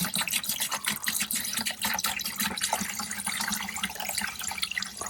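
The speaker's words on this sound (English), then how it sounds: "Let's give it a evaporust bath" Liquid sloshes and splashes steadily as a 1969 VW Bus mustache bar is lowered into an Evapo-Rust bath, a continuous watery rush close by with no talking.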